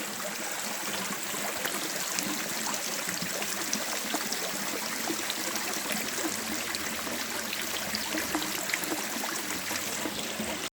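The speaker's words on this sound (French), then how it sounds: "Un petit bruit d'eau." Water from an irrigation canal on Madeira streams steadily and continuously, a soft close trickling rush that holds even throughout with no other sounds.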